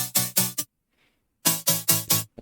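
Bright, unfiltered future bass saw chords from a Vital synth hit in clipped, punchy stabs, with a group of four, a silent gap, then four more loud hits and a short final one.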